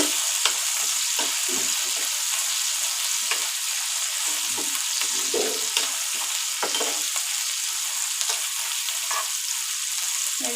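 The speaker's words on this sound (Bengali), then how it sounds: "তেলের উপরে আদা কুচি, রসুন কুচি দিলে ঘুগনির টেস্টটা আলাদা হয়" Chopped ginger and garlic fry in hot oil for ghugni, giving a continuous close, even sizzle with faint scattered crackles throughout and no talking.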